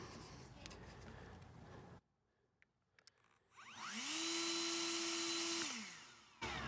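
Ego 56V battery backpack leaf blower running over grass, a loud steady whine rising in pitch as it spins up, holding for a couple of seconds, then winding down, after a quiet pause following outdoor noise.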